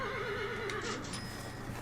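A horse neighs in the Forestry 2017 The Simulation video game, a wavering whinny near and clear for about a second, then fading into a faint hoof clatter and steady background hum.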